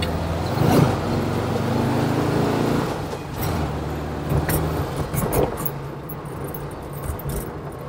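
A 1974 Volkswagen Beetle engine pulls from inside the car, a steady, close, low drone that swells and eases as it accelerates, with light rattles and small clicks.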